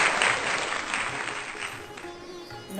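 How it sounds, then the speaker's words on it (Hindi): An audience at a Hindi poetry recital applauds a poet, a dense burst of clapping from the crowd that holds steady and slowly fades over a few seconds. "एक बार जोरदार तालियां"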